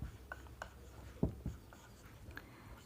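Writing on a classroom board during a maths lesson on time subtraction, heard as soft scratchy strokes and a few firmer taps, faint and close, with no talk.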